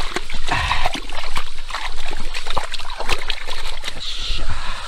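Water pours out into a river beside a taro field, a steady close splashing and gurgling flow with continuous broadband rush and small splatters.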